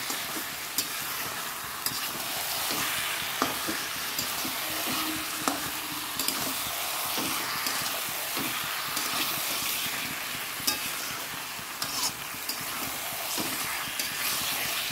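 Potatoes frying in a pan with spices, a continuous loud sizzle with occasional scraping stirs and small pops throughout, no voices.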